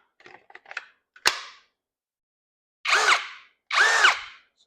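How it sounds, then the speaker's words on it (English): A DeWalt-battery cordless brushless drill gives two short, loud whirring bursts at rising speed after some quiet handling clicks and a sharp snap, each spin winding up and stopping. "So let's put a DeWalt battery in and give it a try."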